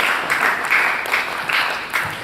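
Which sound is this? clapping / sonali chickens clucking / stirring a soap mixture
clapping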